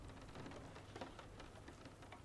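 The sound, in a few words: rain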